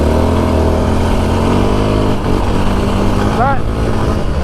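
A Yamaha Raptor 700 ATV engine runs at a steady idle in the Arizona desert. The rumble is loud and continuous, with a slight dip in level and faint speech partly over it.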